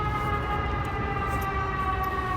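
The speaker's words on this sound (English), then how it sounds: "every time I shoot videos, there's sirens in the background." A steady emergency vehicle siren tone holds throughout, sustained and fairly loud over low city rumble, with no voices.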